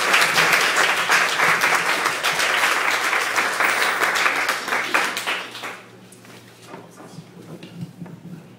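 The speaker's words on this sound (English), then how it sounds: "Please give a warm Tuesday Funk welcome to Cynthia Cina Pelayo" An audience applauds to welcome a reader at Tuesday Funk, a live literary reading event: loud, dense clapping for several seconds, tapering off into scattered claps and room noise.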